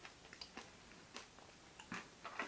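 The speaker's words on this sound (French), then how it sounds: "Ça croque sous la dent." Someone chews a large, hard piece of robot-shaped sugar candy with a slightly gelatinous texture, giving soft, close, irregular crunches and clicks in a quiet room.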